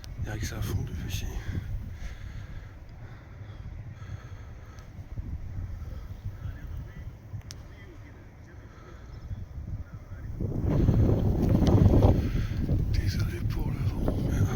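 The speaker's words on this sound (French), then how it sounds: "Désolé pour le vent." Wind buffeting an outdoor microphone during a walk in Meudon, a steady low rumble that surges louder toward the end.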